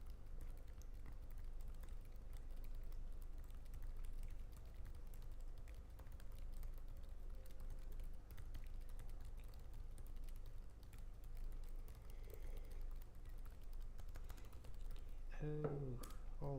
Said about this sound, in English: I will try to type and see how it looks